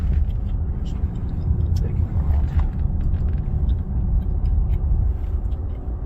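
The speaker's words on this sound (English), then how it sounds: "Got a car coming" A car approaches and passes on a road outdoors, a steady low engine and tyre rumble that stays fairly loud throughout with no clear peak.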